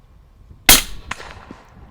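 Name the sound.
gunshots from a rifle with a red dot sight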